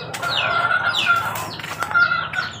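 Chickens in a coop cluck and chirp steadily throughout, with close, overlapping calls and no talking.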